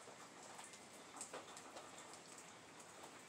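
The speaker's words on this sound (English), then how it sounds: "It looks so pretty when it rains." Steady rain patters on surfaces with scattered individual drops, a continuous soft hiss at low volume with no voices.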